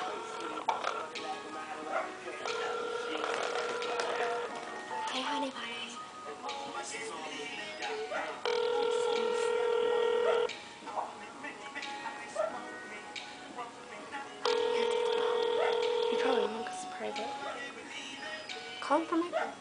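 Phone line tones from a call placed on a mobile phone, with two long steady tones several seconds apart under ongoing chatter and background noise as people talk.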